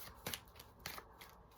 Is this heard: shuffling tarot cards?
yes